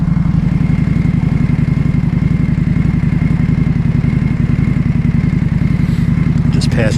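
A 2025 Indian Scout Bobber motorcycle runs steadily on the road, its engine droning loud and close with a continuous rumble and wind noise, holding an even pace throughout.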